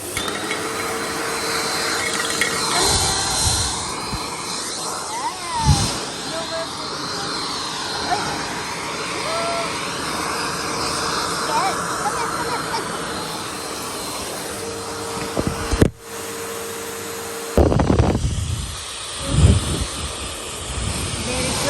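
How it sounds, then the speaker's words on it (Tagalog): A pet hair blower drying a dog roars with a steady, breathy whoosh, briefly cut off twice, with a few thumps and handling noises around it. "Yan ang blower ni Mila."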